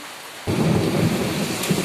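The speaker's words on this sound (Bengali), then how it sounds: "শুক্রবারের তিনটের সময় প্রচণ্ড বৃষ্টি" A heavy afternoon downpour in early October starts suddenly as a loud, dense roar of rain, with a deep thunder rumble underneath. It continues steadily to the end.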